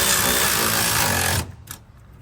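A Milwaukee electric ratchet whirs loudly and steadily up close while tightening an air bag bracket to a truck frame, then stops abruptly, leaving a few faint clicks.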